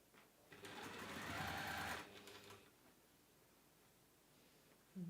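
Sewing machine stitching a double-sided carry case, a steady whirring run of about one and a half seconds in a quiet workshop, then slowing to a stop, followed by near silence.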